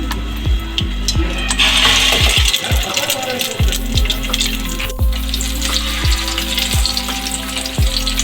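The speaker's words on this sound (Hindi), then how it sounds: "ये शैलो फ्राई होगी, डीप फ्राई नहीं होगी।" Egg-coated macaroni kebabs shallow frying in oil in a pan, a loud continuous sizzle with repeated sharp clinks and taps of a utensil against the pan at an irregular pace.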